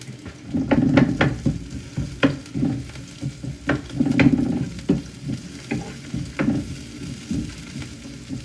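Onion fries in oil in a pan for a Bhogi vegetable dish, a close crackling sizzle broken by repeated spoon scrapes and clinks in an irregular rhythm.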